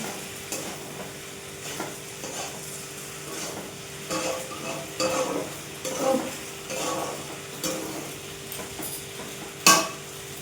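Food frying over a low flame is stirred in a pan, giving a soft steady sizzle with the repeated scrape and clink of a spoon against the metal pan.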